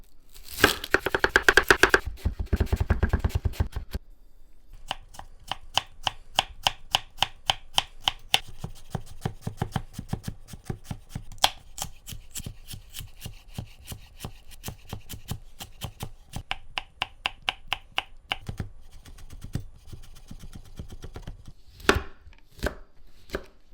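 Shallot, garlic, lemon and celery being chopped on a cutting board as prep for lobster mac and cheese, with fast bursts of rapid knife strokes, then a long steady run of crisp, evenly spaced chops, close and loud.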